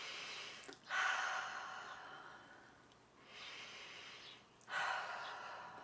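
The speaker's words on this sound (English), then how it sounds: "Big breath." Slow, deep breaths during a chair yoga balance practice, close and soft, with two long airy inhales or exhales separated by a quiet pause and a third beginning at the end, no speech.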